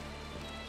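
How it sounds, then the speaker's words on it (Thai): Rain falls in the Minecraft video game as a brief, dense, steady hiss, up close and alone. "โอ้ฝนตกจังเลยเนี่ยเกลียดดูฝนที่สุด"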